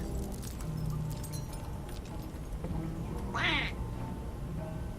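Rubber duck quacking in the video game We Happy Few: a single short squeaky quack, faint and set in the middle of a low game background hum.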